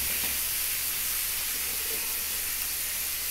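Pumpkin fries with turmeric in a pan for chutney, giving a dense, loud, steady hiss of steam and sizzle with no pauses and no voices.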